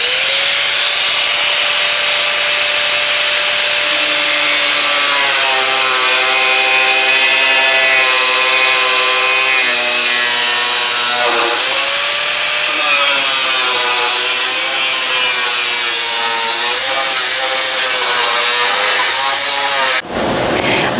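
Loud, sustained whine of an angle grinder cutting sheet metal, its pitch shifting as it cuts, running continuously before stopping abruptly near the end.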